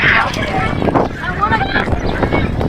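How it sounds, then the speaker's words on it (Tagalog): Strong wind buffets the microphone outdoors near a castle, producing loud, uneven rumbling gusts, while a person talks through the noise. "Malakas yung hangin."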